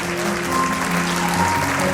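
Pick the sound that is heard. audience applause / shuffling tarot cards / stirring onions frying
audience applause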